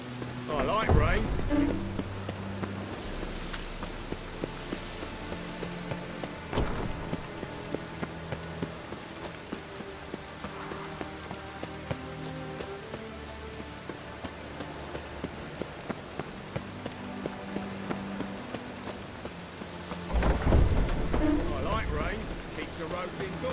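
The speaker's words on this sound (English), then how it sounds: "I like rain." Rain falls in The Witcher 3: Wild Hunt, a steady soft patter on surfaces. Louder bursts of game sound come and go at the start, middle and end.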